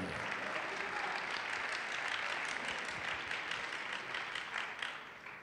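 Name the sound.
audience applause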